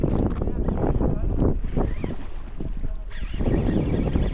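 A small fishing boat's engine runs steadily with a low rumble, mixed with heavy wind buffeting the microphone and the sound of open water. Voices talk over it.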